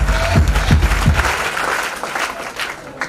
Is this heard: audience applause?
yes